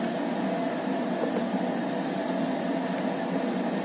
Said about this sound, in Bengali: আমি বড় কড়াইয়ে সবগুলো ফ্রেঞ্চ ফ্রাই একসাথে দিয়ে দিচ্ছি